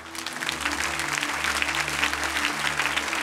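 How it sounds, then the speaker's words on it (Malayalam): A church congregation applauds, with dense, continuous clapping from many hands that fills the hall at steady loudness for several seconds. "പോരല്ലോ, കൈയടിച്ചത് പോരാ."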